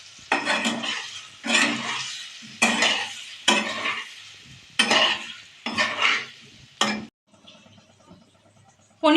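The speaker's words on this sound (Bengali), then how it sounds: "পনিরগুলোকে হালকা ভেজে নেব" Paneer lightly fried with a pinch of salt in a pan, giving repeated bursts of sizzling and scraping as a spatula stirs the pieces, about six strokes in a steady rhythm, close and fairly loud, then quieter sizzle at the end.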